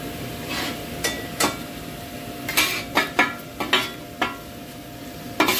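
Onion and mixed vegetables sizzle in a pan for Sri Lankan egg kottu roti, a steady fry broken by sharp metallic clanks and scrapes of a utensil against the pan at irregular intervals.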